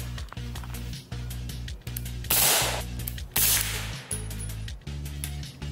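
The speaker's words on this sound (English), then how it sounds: "we're gonna shoot some subsonic ammo through it just to see what it sounds like" A Honey Badger rifle fitted with a Q Trash Panda suppressor fires subsonic ammunition in two sharp suppressed bursts near 2.3 and 3.4 seconds. Each is loud and close, over a constant low hum that carries through the whole clip.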